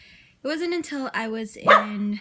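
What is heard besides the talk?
dog barking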